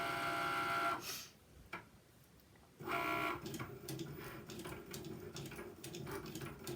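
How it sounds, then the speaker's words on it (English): A Cricut cutting machine draws with a pen, its motor whirring and buzzing in steady bursts with a short pause, close and fairly loud with no talking. "let Cricut go ahead and do its writing"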